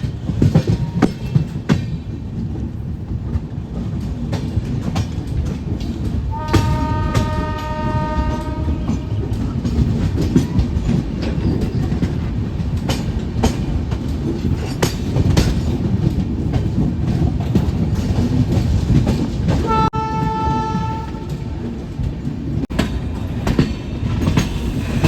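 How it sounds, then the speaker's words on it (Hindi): The Bikaner Sealdah Duronto Express runs through Gaya Junction without stopping, its steady loud rumble and rattle carrying throughout, broken by two long horn blasts, one early and one near the end. "यहाँ पे हम लोग की ट्रेन गया जंक्शन में एंटर कर रही है"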